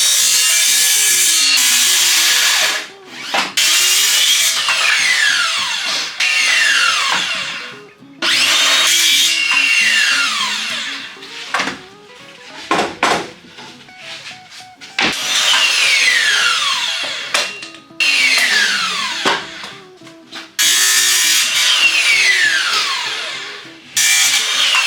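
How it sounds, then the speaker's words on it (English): An old circular skill saw rips through wood in repeated bursts, each cut a loud high whine that starts, holds a few seconds and stops, separated by short quiet gaps, with no talking. "Use my old skill saw."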